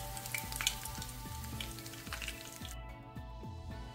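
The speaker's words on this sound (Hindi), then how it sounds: "अब गरम तेल में इसे हम डालेंगे" Spring roll sheet strips dropped into hot oil to fry into papdi give a steady, fairly quiet sizzle with small crackles and pops throughout.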